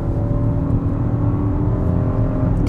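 A 2022 VW Atlas with a VR6 engine accelerating on pavement in road mode, a steady loud engine drone with a rising hum heard from inside the cabin, continuous and alone without talk.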